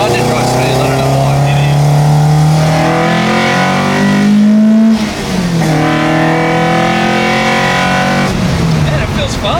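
A Ford Escort MK1 RS2000 street car accelerating hard, heard loud from inside the cabin as the engine note climbs, dips at a gear change and climbs again, with voices faintly present.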